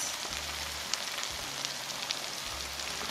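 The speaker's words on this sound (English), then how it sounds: "And next, you wanna add your tomato sauce." Tomato sauce poured into buttery seasoned oil for a Mexican creamy garlic butter chicken hisses in a steady, fine sizzle over medium heat. It sounds close and even, with a faint low hum pulsing in the background.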